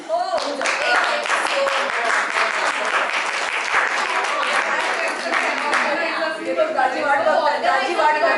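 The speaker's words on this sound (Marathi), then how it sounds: "सगळ्यांनी टाळ्या होऊन जाऊ जरा हो, प्लीज" Warm audience applause at a Makar Sankranti ukhana contest, many hands clapping loudly and continuously for several seconds before fading, with murmured voices rising as it dies down.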